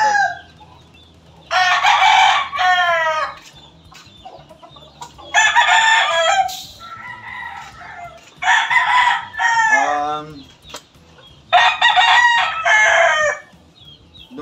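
Backyard chicken coop with hens kept in battery-type cages, where roosters crow loudly several times in a row amid clucking hens.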